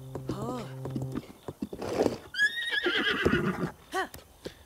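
A horse whinnies in Zelda: Breath of the Wild, a bright wavering neigh heard close up, mixed with game chimes and a few hoof sounds, with a voice talking in places.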